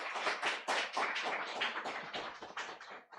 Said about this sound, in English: Ladies and gentlemen, please give another warm round of applause.